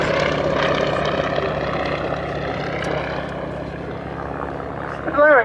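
Yak-52 and De Havilland Chipmunk trainer aircraft in a flying display give a steady, continuous propeller engine drone, fairly loud and unbroken, with a brief louder swell near the end.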